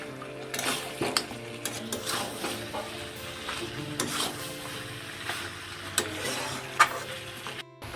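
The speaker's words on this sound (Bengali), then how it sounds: "এরপর আলু আর রসুন দিয়ে ভালোভাবে মাংসটাকে কষিয়ে নেব।" Mutton being sautéed in a pan with potatoes and garlic, giving a steady close sizzle with repeated stirring scrapes and a few sharper clinks of a utensil against the pan, no talking.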